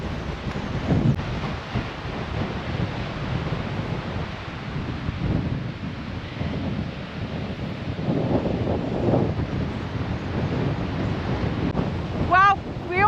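Wind and sea surf roll along the Danish coast on the Gendarmstien hiking trail, a steady broad roar of waves with gusts buffeting the microphone and brief faint voices near the end.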